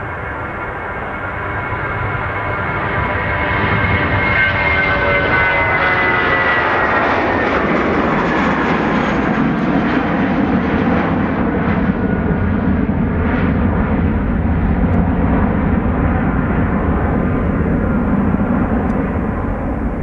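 A heavy jet airliner departs Dublin Airport, its engines building from a rising roar to a loud, sustained rumble that stays strong and steady as it climbs away.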